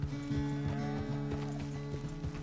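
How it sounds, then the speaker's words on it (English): Horse in Red Dead Redemption 2, heard as steady rhythmic hoof clip-clops at a walk, fairly close and continuous over a low droning game background, with no talk. "The horse can feel your fear."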